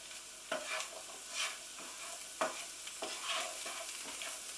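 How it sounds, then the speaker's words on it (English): Spiced chickpeas frying gently in a pan, a soft, even sizzle with periodic stirring swishes, fairly quiet and close, with no voices. "I'm just going to gently fry these for a couple of minutes."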